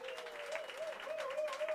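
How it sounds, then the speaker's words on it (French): Audience applause after a drum demonstration session in Benin, a fairly soft, even patter of clapping with a steady tonal drone running through it. "Continuez les applaudissements, continuez."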